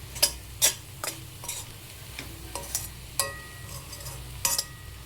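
An amaranth and moong dal curry is stirred in a pan, a spoon scraping and clinking against the metal in irregular strokes over a soft, low sizzle, close by with no talking.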